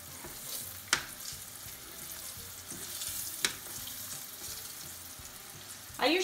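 Cucumber slices frying in a pan of oil, a steady close sizzle and crackle with two sharp clinks and a louder burst of spattering at the end, no talking.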